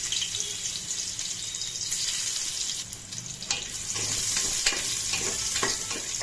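Garlic sautés with fennel seeds, cinnamon and bay leaf in hot oil, giving a loud, dense sizzle close by with scattered stirring scrapes and a brief dip in the middle.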